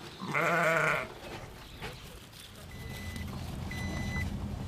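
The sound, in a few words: sheep grazing on a solar farm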